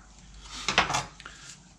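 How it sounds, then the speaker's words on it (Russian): A few quick knife strokes against a cutting board while fresh herbs are chopped for khinkali, close and crisp, with a brief cluster of cuts in the middle of a quiet kitchen. "Режем зелень."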